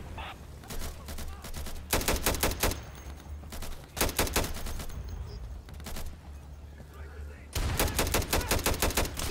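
Gunfire in the tactical shooter Insurgency: rapid automatic bursts crackle in several separate volleys, loud and close, with a low background hum and quieter stretches between them.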